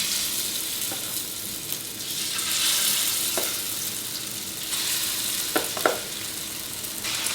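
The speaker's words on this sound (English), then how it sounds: "I'm gonna fry more. Okay, so this is my second batch." A second batch of vegetable kofta fries in a pan with a continuous crackling sizzle, close by, broken by a few sharp clinks and scrapes of stirring.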